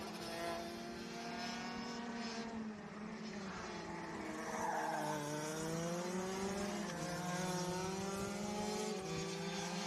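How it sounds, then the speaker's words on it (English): Racing karts slipstreaming nose to tail around a track, with several high-revving engines whining together and their pitches rising and falling as they pass nearby, continuous throughout. "you see the slipstreaming practice going on. Between the 511 and 509 karts"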